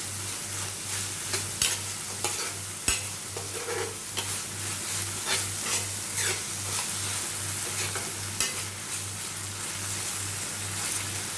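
Dried shrimp (jawla) being stirred with onion, tomato, kokum and masala in a pan, a steady sizzle with repeated scraping and clinking spatula strokes over a low, constant hum, close up and with no voices.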